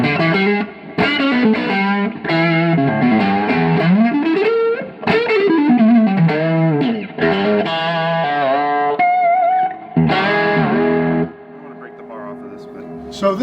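Distorted electric guitar played through a Rivera tube amp, chords and sliding notes ringing out with brief pauses between phrases, loud and close.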